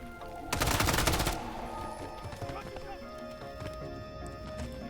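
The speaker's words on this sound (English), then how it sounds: "This gun has like no recoil. It has a decent fire rate and time to kill." Rapid burst of video game gunfire from a low-recoil gun with a decent fire rate, loud and dense for under a second, then quieter game sounds continue.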